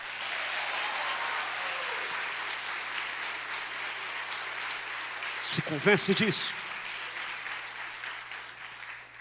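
A church congregation at a parish service applauds in a steady, moderately distant wash of clapping that runs throughout, while a priest's voice briefly speaks over it.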